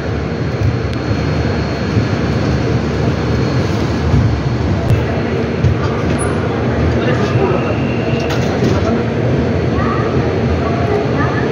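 The Humsafar Express departs platform 4 at Visakhapatnam railway station with a loud, continuous rolling rumble and roar that holds steady throughout, close by.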